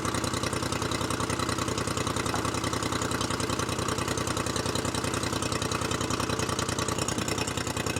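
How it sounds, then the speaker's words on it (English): A four-stroke outboard motor on a 19-foot Carolina Skiff DLV-Series boat idles steadily, with an even low rumble and a close, continuous rhythm that holds throughout with no talk over it. "when we go fishing, the motor does not cut off. We don't turn it off. It's quiet, it's a 4-stroke,"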